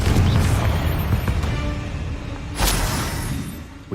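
A Confringo spell explodes in Hogwarts Legacy: a loud, booming blast with a second burst about halfway through, over a rumbling low roar.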